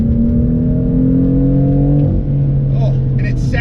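The engine of a BMW M4 revs hard under acceleration, a loud continuous drone that climbs in pitch, breaks briefly at a gear change and then pulls on steadily.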